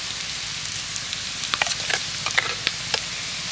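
Moringa leaf paste frying and being stirred in a pan: a steady close sizzle with scattered sharp scraping and clinking strokes of the spatula, no voices.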